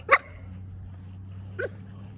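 A dog gives two short barks, one at the start and another a second and a half later, over a low steady hum.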